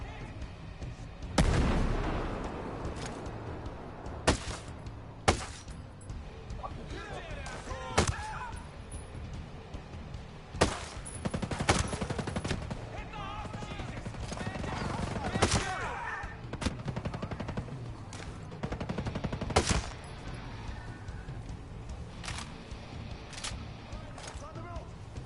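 Rapid bursts of gunfire in the tactical shooter Ghost Recon Breakpoint, with sharp shots recurring every few seconds across the span amid steady battle noise and players shouting over it.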